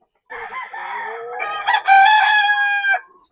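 A breeding rooster crows nearby, one loud, drawn-out call lasting nearly three seconds with a rising, strained finish, heard alone.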